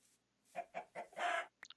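Minecraft chickens clucking in a short run of four or five bursty calls, fairly close, followed by a few quick clicks, no talking.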